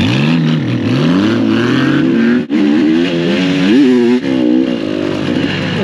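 A Honda Goldwing motorcycle ridden off-road, its engine revving loudly and repeatedly, pitch sweeping up and down with brief cuts between pulls, close and continuous with no talk.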